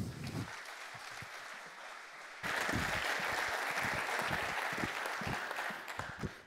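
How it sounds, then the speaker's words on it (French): Applause for a speaker at a tech talk, quiet clapping that swells abruptly into loud, sustained applause from the audience. "Applaudissez-le."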